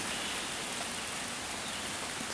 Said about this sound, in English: it's the downpour moving through.